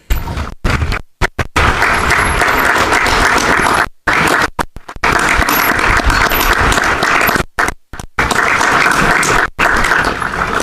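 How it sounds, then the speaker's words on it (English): Sustained applause from a large crowd at a 2019 commencement ceremony fills the space, steady and dense, with a few brief dropouts along the way. "please extend applause to your family members who are here today"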